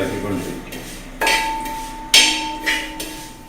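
A metal spoon stirring and knocking against a pan as vermicelli roasts for caramel payasam, three sharp clinks standing out over a low, steady cooking hiss.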